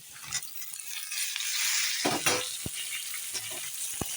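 Potatoes already fried red, with eggplant and green chillies newly added, sizzle steadily in hot oil, with a few sharp clinks of a spoon against the pan and some stirring scrapes near the end.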